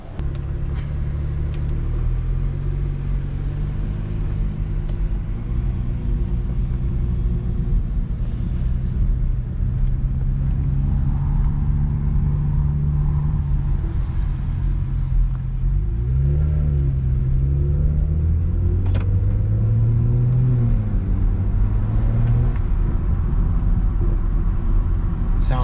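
Inside a moving BMW 335is with a catless exhaust, a deep steady engine rumble drones on, rising in pitch through a couple of throttle pulls while driving, loud and continuous with no talk.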